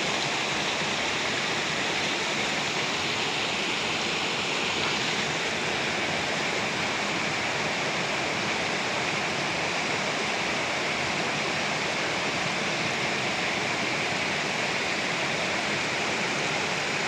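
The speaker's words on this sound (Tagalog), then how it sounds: "ang tubig na yan galing doon sa Monte Sarog" Water from Mount Isarog in Camarines Sur, Philippines, rushes steadily nearby as a constant, even roar with no pauses and no voices.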